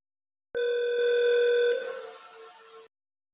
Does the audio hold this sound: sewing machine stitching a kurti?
no